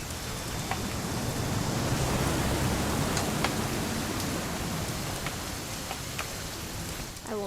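Steady rain pours throughout in the game What Remains of Edith Finch, a dense even hiss with scattered sharper drops ticking through it, close and continuous with no talk.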